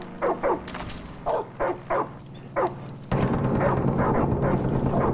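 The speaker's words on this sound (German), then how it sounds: "Bellt doch bitte nicht so." Dogs in the video game Far Cry 5 bark in a quick series of about six sharp, close yaps, followed by a sudden shift to a loud continuous rushing noise.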